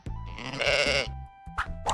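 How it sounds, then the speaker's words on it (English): A sheep bleats loudly and close by in a farm setting, one long wavering bleat followed by a shorter second call after a brief pause. "It's a sheep!"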